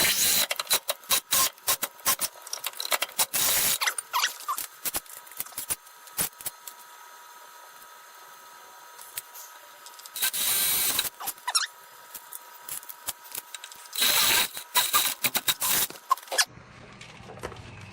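Drilling holes for a steering gearbox brace on a 1998 Jeep Cherokee XJ: rough grinding, rasping bursts in uneven spurts with pauses between, close and fairly loud, ending in near silence, with no talk.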